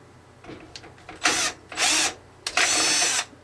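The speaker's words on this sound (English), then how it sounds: "And then we're going to screw it down." Power screwdriver driving screws to fix a motherboard into a PC case, three loud bursts of high whirring, each lasting about half a second, with faint handling clicks before them.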